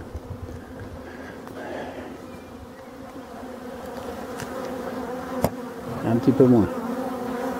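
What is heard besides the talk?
buzzing of drone bees (male honeybees) at forest beehives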